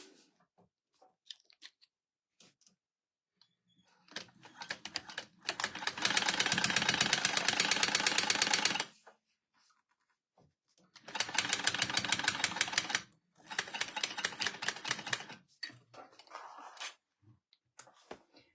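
A sewing machine top stitches a crossbody bag in close, rapid bursts, two long runs and a shorter one, separated by quiet pauses and small handling clicks.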